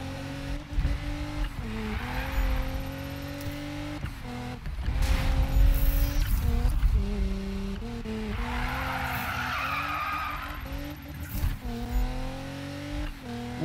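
A car drifts around a curve in Need for Speed. The engine drones steadily and shifts pitch while the tyres skid and hiss, with a few bumps and impacts and no speech over it.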